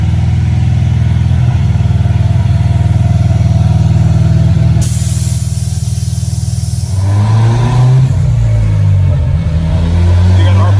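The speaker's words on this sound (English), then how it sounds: "So we got a Mustang dyno, and let's see what she puts down." Engine of a Mustang on a chassis dynamometer during a tuning session, loud and sustained with a steady low drone that climbs in pitch near the end as revs build.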